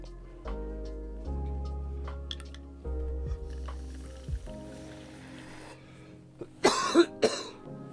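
A few rough coughs burst out near the end after quiet low rumbling and soft movement noises.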